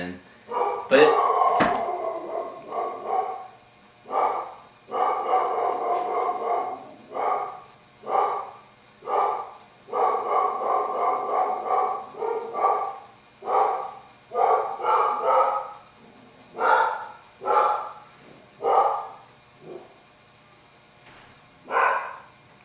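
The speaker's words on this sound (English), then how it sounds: "Sorry, that was my dog." A rowdy dog barks repeatedly, loud and close, in a long run of sharp barks and yips with short gaps between them, some stretching into howl-like calls.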